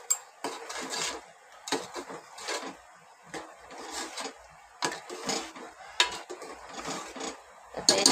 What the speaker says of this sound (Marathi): आता याला असं सर्व मसाला आता परतून घ्यायचा व्यवस्थित